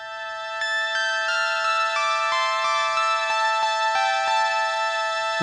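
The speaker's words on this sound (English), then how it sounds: "So this synth is kind of a high frequency, cool lead line thing that comes in at the end of the song" A bright, high synth lead line near the end of a mixed song, dry and unprocessed: plucky repeated notes with sharp attacks in a steady rhythm, ringing harmonics over a soft low backing, loud and upfront with no voices.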